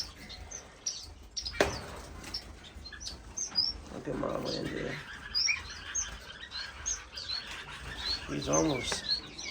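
Indian silverbill finches in an indoor bird room give scattered high, thin chirps and tweets, close and fairly faint, with brief rustling and a person speaking quietly among them.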